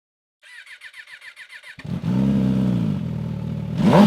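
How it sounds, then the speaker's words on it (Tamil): An MV Agusta Rush Limited Edition motorcycle is started after a rapid pulsing cranking whir, settles into a loud, close idle from its exhaust, then a brief rev swells at the end. "இந்த பைக்கோட எக்ஸோ சவுண்ட் வந்து நான் இப்போ ப்ளே பண்றேன்"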